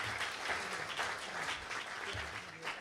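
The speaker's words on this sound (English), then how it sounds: "Give these folks a round of applause." Audience applause at a press conference introducing a new athletics director, a dense, steady wash of many hands clapping throughout with no speech over it.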